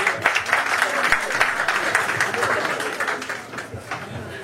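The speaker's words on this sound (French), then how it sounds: "Sous vos applaudissements" Wedding guests at a ceremony in Villiers-le-Bel, France, clap together in a moderate, continuous round of applause that gradually thins out, with voices mixed in.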